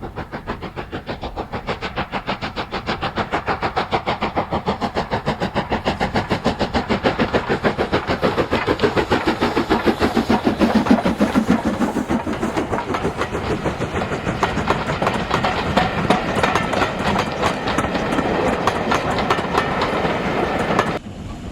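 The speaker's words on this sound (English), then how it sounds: "train is now climbing towards Townsend Bridge through Corfe Common." A steam locomotive, LMS Stanier Class 5 No. 44871, labours steadily uphill along the rails, a continuous heavy rumble with rapid rhythmic chuffing and clatter that never lets up.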